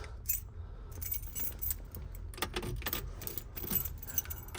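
Car keys jangle repeatedly in bursts, close to the microphone, while someone prepares to start a restored 1966 Corvette coupe with a 355 cubic-inch engine and 4-speed manual.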